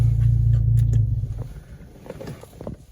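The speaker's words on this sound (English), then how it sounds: "So I'm gonna go ahead and turn my car off." An Audi being switched off: a low engine rumble idles for about a second, then dies away, leaving faint clicks and quiet interior sounds.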